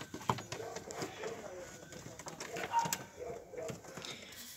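Pigeons coo softly in a coop where the birds have been separated into males and females, with low repeated coos and scattered rustles and wing flutters throughout.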